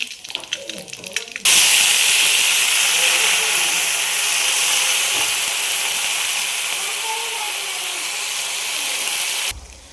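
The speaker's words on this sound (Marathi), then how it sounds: "आता आपण कोबी टाकून घेऊया" Chopped cabbage drops into hot mustard-and-cumin tempering, bursting into a loud, close, sustained sizzling hiss that holds steady for several seconds after some brief clattering, then cuts off.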